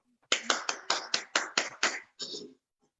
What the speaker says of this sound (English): I think we should all just clap again